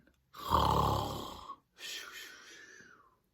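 Two loud snores from a bear, read aloud in a storybook, the first a long rough rasp and the second a lighter, fading breath, with a voice imitating the sound.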